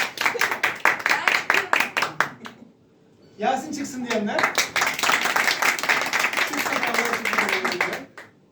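An audience claps in bursts to vote during an improv theatre game, a rapid run of loud claps, a short pause while someone speaks, then a longer stretch of clapping with voices.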